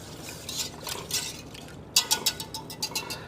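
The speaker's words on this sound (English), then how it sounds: "We're gonna get that all heated up and going. That's stirring." A utensil stirs a stick of butter melting in a pan, making a series of light clinks and scrapes that grow quicker and louder toward the end, with no talking.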